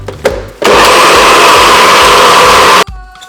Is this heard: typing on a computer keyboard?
no